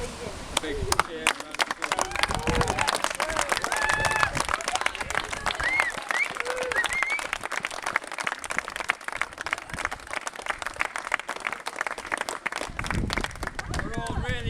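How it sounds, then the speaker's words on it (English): A school crowd at Wynstones claps and cheers for children finishing a sponsored charity cycle ride, dense sustained applause with voices mixed in throughout. "So I'd like to just give you all a big cheer."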